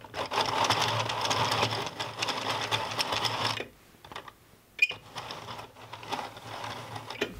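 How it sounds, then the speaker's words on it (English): Prym midi knitting mill being handled and threaded, a busy mechanical clatter of plastic parts and cranking for several seconds, then a brief pause with a sharp click before quieter rattling and handling resumes, close by. "We should take this out and show you how we thread the knitting mill."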